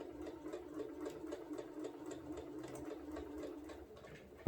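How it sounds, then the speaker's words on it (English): A sewing machine stitches through a quilted placemat with a spider appliqué, a quiet, rapid and evenly rhythmic run of needle ticks that continues steadily before stopping with a small clunk. "I'm going to sew it through a little bit"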